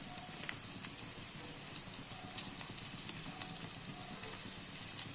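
Tempering spices frying in hot oil for tomato rice, a faint, steady crackle and sizzle with small popping ticks, heard close and quiet with no talking.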